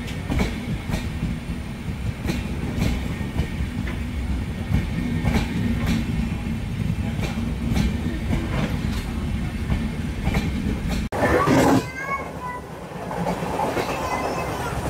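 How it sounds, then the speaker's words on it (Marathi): The Janshatabdi Express passenger train, on the Konkan Railway, rumbles into a station with a rhythmic clickety-clack of wheels over rail joints, steady and loud, briefly rising into screechy metallic squeals near the end. "तर ही आली आहे जनशताब्दी एक्सप्रेस, मुंबईवरून येणारी मडगावला जाणारी जनशताब्दी एक्सप्रेस"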